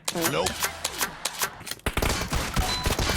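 Gold DBS shotgun in PUBG Mobile firing a rapid string of sharp close blasts, with someone talking excitedly under and between the shots.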